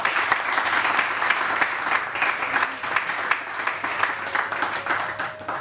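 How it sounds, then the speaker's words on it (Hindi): Sustained, dense applause from a television morning-show studio audience greeting Doctor Muiz, steady and fairly loud throughout with no voices on top. "तालियाँ।"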